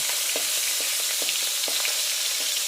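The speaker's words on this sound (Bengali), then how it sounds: "তেল গরম হয়ে গেছে আমি পাঁচটা চিংড়ি ভেজে নেব" Five whole prawns frying in hot oil in a kadai, a steady close sizzle with scattered sharper pops and crackles, no voices.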